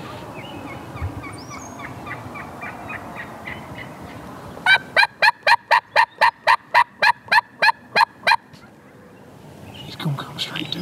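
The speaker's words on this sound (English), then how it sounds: "the turkey that just gobbled is not the one walking to us" A Merriam's wild turkey gobbles in open public-land country, with a loud rolling gobble followed by a rapid, evenly spaced series of sharp calls, while hunters murmur quietly nearby.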